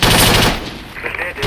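High explosive rounds fired in a video game battle, a loud, rapid burst of booming gunfire up close that dies into rumbling noise and scattered crackles.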